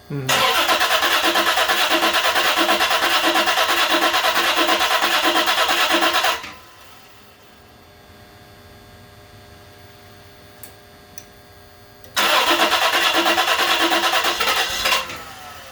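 A 1994 Toyota 4Runner engine cranks for several seconds without fuel pressure, goes quiet with a low hum, then cranks loudly again, close and steady.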